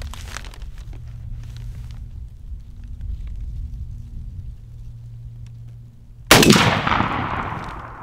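A single loud turkey shotgun blast, fired with a red dot sight, cracks out near the end and then decays. A low, steady rumbling hum runs underneath before the shot.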